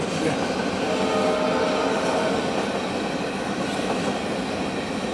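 A short train rumbles past close by, steady rolling wheel noise with faint clacking and a bit of metallic squeal, no voices.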